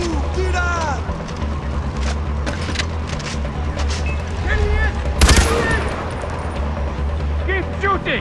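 Gunfire in the video game Far Cry 4, rapid repeated shots and bursts over a rumbling backdrop, with one sharp loud blast near the middle, while voices talk over the action.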